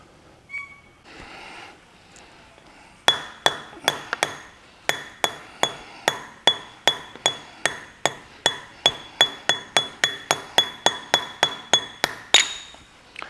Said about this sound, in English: get the dust caps off